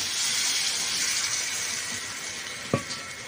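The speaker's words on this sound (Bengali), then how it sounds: "এখন আমি দিয়ে দেবো এখানে জল।" Water poured into a pan of frying potol chingri, pointed gourd with prawns cooked in a village-style Bengali curry: a constant steady sizzle and hiss, close up, broken near the end by one sharp clink.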